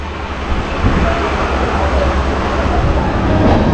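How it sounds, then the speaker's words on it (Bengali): A passenger train leaves Sealdah station bound for NJP, heard as a steady, even rumble with broad rushing noise and no distinct clanks or horn. "আমাদের ট্রেন একদম নির্ধারিত টাইমে কিন্তু শিয়ালদা স্টেশন থেকে ছেড়ে দিল এনজিবির উদ্দেশ্যে"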